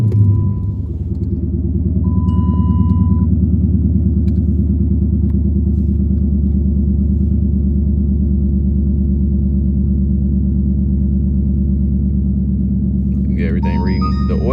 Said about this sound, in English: you see if we start the car.